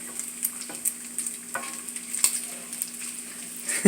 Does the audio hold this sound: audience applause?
no